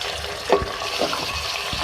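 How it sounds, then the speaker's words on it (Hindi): Chicken pieces, about 300 grams, dropped into a pan of frying cardamom, making a brief soft thud and splash over a steady low sizzle. "तो मैं इसमें ऐड करूँगी चिकन 300 ग्राम।"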